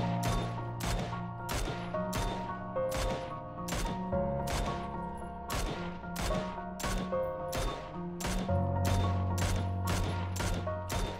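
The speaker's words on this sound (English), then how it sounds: "I've landed none of these shots." Gunfire in the PUBG battle royale video game, a steady run of about twenty sharp shots at an even rhythm over a tonal game background, loud and close with no talking.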